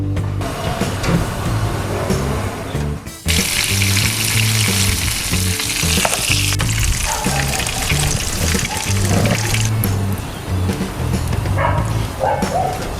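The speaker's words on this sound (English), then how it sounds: "And I'm just going to fry them in the oil." Lightly dusted tailor, snook and herring fillets, skin side first, frying in hot oil on a beach trip, a loud constant sizzle and crackle that swells and dips as pieces go in and are moved.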